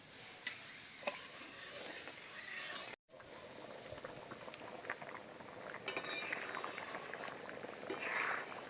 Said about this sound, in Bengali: ডালটা ভালোভাবে ফুটিয়ে নেব।